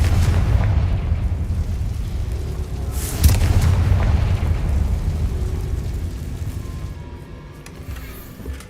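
A Confringo explosive spell cast in Hogwarts Legacy lands with one muffled boom partway through, set over a steady low rumble of game ambience, with no voices over it.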